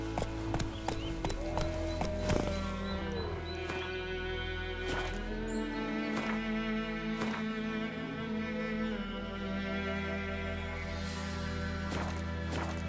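Horse hooves clip-clopping steadily at a gallop in The Witcher 3, a continuous rhythmic pounding over game music and ambient tones, close and even throughout.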